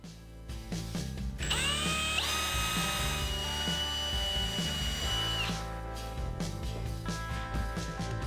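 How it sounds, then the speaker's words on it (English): A power drill bores holes through a cabinet drawer front held in a clamped jig during kitchen pantry cabinet installation, its steady whine rising as the motor spins up and cutting for several seconds before winding down, close and loud. "and drill the holes."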